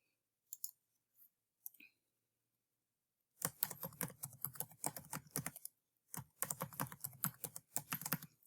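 Typing on a computer keyboard to enter a username, a few isolated key taps followed by two fast, close bursts of clicking with a short pause between them.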